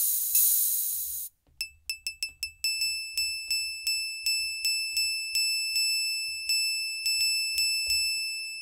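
A Bitwig FM synthesizer patch set to a one-to-one ratio plays a bright, bell-like tone repeated in a quick run of decaying plucks, followed by a steadier rhythmic series, clean and alone.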